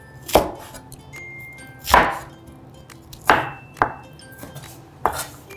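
Green onions are chopped with a knife on a board, five or six sharp, separate knocks spaced irregularly about a second apart, close and clear against a quiet kitchen.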